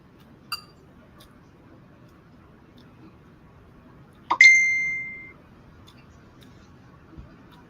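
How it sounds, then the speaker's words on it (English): A mobile phone notification chime rings out once, a bright ringing tone that decays over about a second, in an otherwise quiet room with a faint click earlier. "that's my phone doing the noise."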